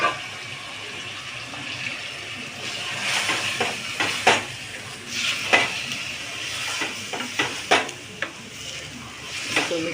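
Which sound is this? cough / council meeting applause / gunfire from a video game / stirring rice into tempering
stirring rice into tempering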